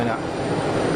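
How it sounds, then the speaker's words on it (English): An Air China Boeing airliner on short final over the runway numbers at Geneva Airport gives a steady, fairly loud engine roar throughout the short moment. "here we go with the Boeing on a short final over the numbers"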